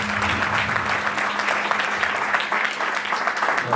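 Sustained, energetic clapping from a Christmas event audience, loud and even from start to finish, with a faint held tone and a murmur of voices beneath.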